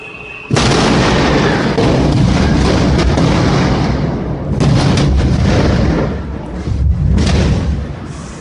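Gas pipeline explosion: a sudden loud, sustained roaring blast with deep booming rumble that swells and surges in waves for several seconds, close and overwhelming.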